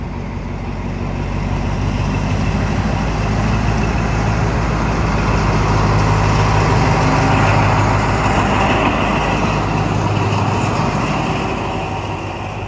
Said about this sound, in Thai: ตอนนี้นะครับก็ทำการปลดรถจักรออกจากขบวนนะครับ